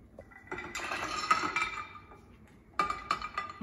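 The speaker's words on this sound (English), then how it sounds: "So we added 3 cups of the frozen blueberries." Frozen blueberries clatter and rattle into a glass blender jar in two pours, a longer tumbling cascade followed by a shorter burst of clinks.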